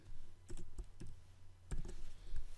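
Typing on a computer keyboard while coding a website: a few soft, irregular key presses and clicks in a quiet room, fairly close.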